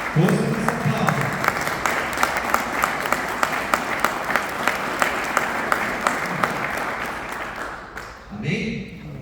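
Congregation in a Portuguese-language church service gives a big round of applause after the scripture reading, steady crowded clapping with a rhythmic pulse of sharper claps, talk mixed in and rising as the clapping fades toward the end.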